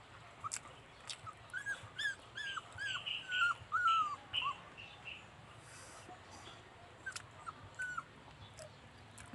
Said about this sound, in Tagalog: Nag-iingay na naman yung aking aso.